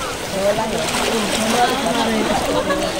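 Strong sea waves slosh and splash continuously close by in clear water at a sanctuary, with a voice speaking over the churning waves.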